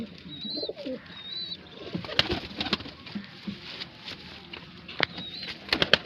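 Domestic pigeons, a prized breed kept by a fancier in Bareilly, coo softly and intermittently close by, with scattered wing flutters and light pattering over a quiet outdoor background.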